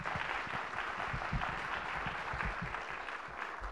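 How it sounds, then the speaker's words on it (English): An audience at a Northwestern alumni talk claps after a speaker, a continuous, moderately quiet patter of many hands that holds steady for a few seconds. "We can clap."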